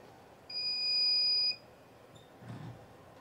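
A heat press timer gives one steady, high-pitched electronic beep lasting about a second, followed by a faint short chirp and a low thump in a quiet room.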